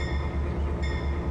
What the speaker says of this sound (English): I know it's a train. This is an SD40-2.